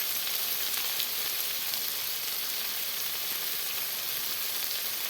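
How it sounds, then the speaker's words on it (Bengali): Ginger, garlic and ground spices such as turmeric, salt, Kashmiri chili and coriander fry in oil in a pan with a steady, even sizzle, close and unbroken, no voices. "আদা রসুন দিয়ে ভালো করে কষিয়ে নিচ্ছি"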